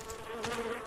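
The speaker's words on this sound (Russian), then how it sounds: "Но я слышу мух." Flies buzzing around a corpse in the survival video game DayZ, a steady, faint insect drone that hangs low and continuous through the moment.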